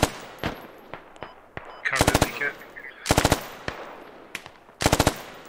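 Gunfire in the military shooter game Squad during a 50 vs 50 guerrilla warfare match: scattered single shots, then three loud, rapid machine-gun bursts close by, with short gaps between them.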